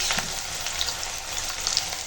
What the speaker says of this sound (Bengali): তো পেঁয়াজটা একটু ভেজে নেব